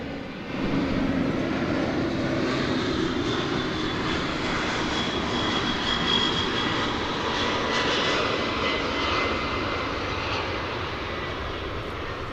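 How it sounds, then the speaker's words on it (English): A UPS Airbus A300 jet lands in fog at Dallas Fort Worth airport, its engines roaring loud and steady throughout, a broad continuous rumble with no voices. "as we listen to an Airbus A300 coming in from Lubbock"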